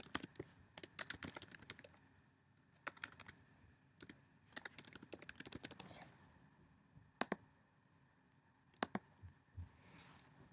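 Rapid bursts of computer keyboard typing with scattered clicks, close and fairly quiet, while code is entered into notebook cells in the Sage math software; pauses separate several clusters of keystrokes.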